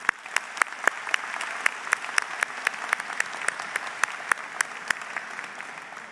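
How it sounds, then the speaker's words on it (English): An indoor crowd at a Durham College graduation ceremony gives sustained applause, a dense wash of clapping lasting several seconds, with sharp nearby claps standing out above the rest. "Round of applause."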